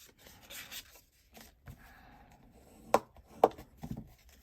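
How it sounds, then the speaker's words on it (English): Card paper for a pop-up wipe card is folded and burnished, with soft scattered rubbing and scraping strokes and two sharper creasing snaps near the end, quiet and close. "And then we're going to fold and burnish."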